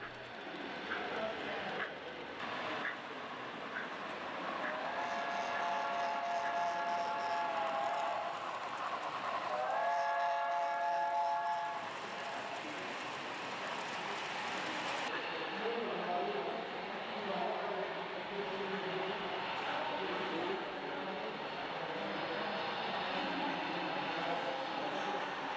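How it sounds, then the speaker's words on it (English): A model steam locomotive runs on a model railroad with DCC sound, its chuffing mixed with a few whistle tones. Voices talk in the background. "We finally got the third steam locomotive to work on DCC and on sound, and it ran really good."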